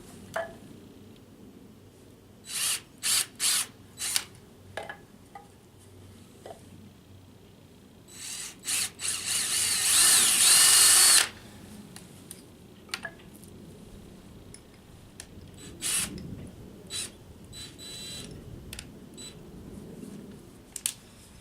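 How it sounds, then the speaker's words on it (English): A power drill whirs steadily for about three seconds, drilling a pilot hole in wood close by, between scattered clicks and taps of handling in a quiet room. "So I'm going to drill a pilot hole."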